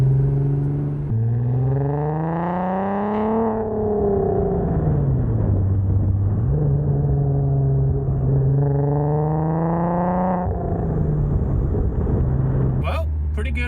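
An all-wheel-drive car revs hard in repeated rising and falling surges, its engine note climbing and sagging as a burnout is attempted, loud and close, with people talking over it.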